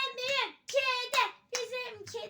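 Children clap along as they chant in unison about their cat, short bursts of hand claps mixed into the close, lively sing-song voices.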